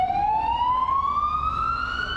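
A Milwaukee fire engine's siren wails as the truck pulls out of its station, one loud, steady tone sweeping slowly upward and carrying on without a break, with no voices over it.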